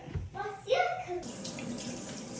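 Water is poured into a pot of fish paksiw seasoned with soy sauce. A brief voice is heard first, then a soft continuous trickle and splash of water follows for the rest of the moment.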